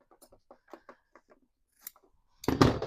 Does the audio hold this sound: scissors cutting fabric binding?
yes